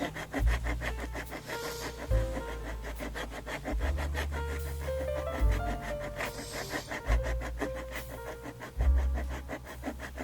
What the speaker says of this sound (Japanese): ヤスリで削ります。